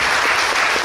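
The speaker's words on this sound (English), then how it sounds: "We give applause for this question" Brief, loud, close burst of clapping from an audience at a university guest lecture, dense and continuous for under a second.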